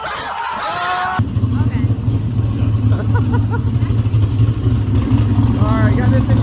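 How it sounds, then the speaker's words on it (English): A race car engine idles roughly just after a cold start on E85, a loud low rumble that jumps in abruptly and holds steady, with a short spoken word near the start. "All right, got this thing fired up. E85 cold start. Started right up."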